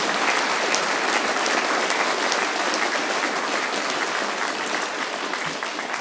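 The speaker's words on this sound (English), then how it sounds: "I think we should give a big round of applause to all those who've performed so brilliantly" An audience at a school opening ceremony claps for the performers, a dense, sustained round of applause that holds steady throughout and fades only slightly near the end.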